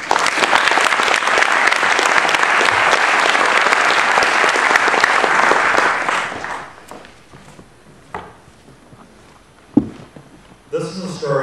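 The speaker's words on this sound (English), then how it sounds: "Let's have a big round of applause for Craig Toepfer." An audience at an Ignite Ann Arbor talk night gives dense, loud applause for speaker Craig Toepfer. It holds steady for about six seconds, then dies away into a few scattered claps and small noises.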